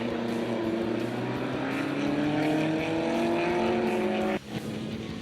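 Historic single-seater race cars roar past on the start-finish straight at Dezzi Raceway, a loud engine note with rising and falling pitch as the cars pass, ending in an abrupt drop as one goes by.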